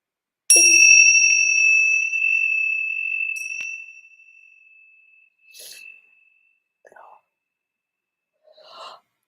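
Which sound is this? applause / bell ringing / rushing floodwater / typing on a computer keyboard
bell ringing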